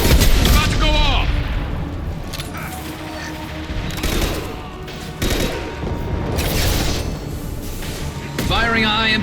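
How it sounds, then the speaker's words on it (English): Heavy weapon shots and booming impacts in Mass Effect 2 combat on Insanity difficulty, a loud burst near the start and another near the end over continuous battle noise, with voices heard among the gunfire. "Firing a high-impact shot!"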